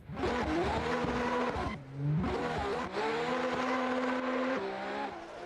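A drift car on a qualifying run at a Montreal event roars at high revs, loud and sustained, with tire squeal and a brief dip in engine note partway through before it climbs again.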